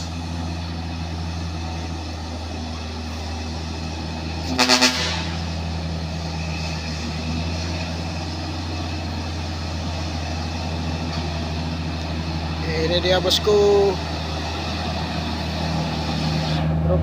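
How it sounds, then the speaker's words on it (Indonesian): A trailer truck carrying heavy equipment rumbles past with a steady low engine drone, a brief hiss around the middle and a louder surge near the end, heard under brief talk. "di sana ada truk trailer bosku. Nampak bermuatan alat berat."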